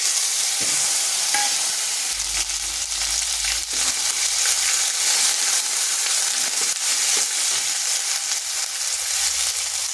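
Nigella seeds, a dried chili, bay leaf and ground spice paste fry in hot oil in a pan for a jackfruit seed curry, giving a loud, steady sizzle with scraping stirs and crackles throughout.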